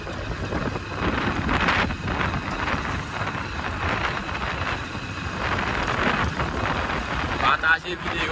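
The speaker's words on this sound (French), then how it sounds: "Il y a un peu le vent." Wind rushes past the microphone beside a river near a bridge at Léon, Haute Voldrogue, Grand'Anse, Haiti, a loud continuous broadband roar swelling and easing over several seconds.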